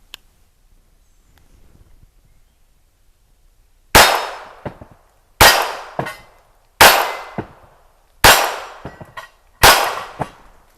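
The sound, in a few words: gunshots from Ruger Mark IV pistol, CCI standard velocity rounds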